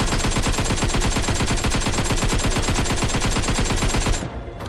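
Rapid automatic gunfire from the Free Fire video game, a loud, dense burst of evenly spaced shots rattling continuously for about four seconds before cutting off into a brief fading tail.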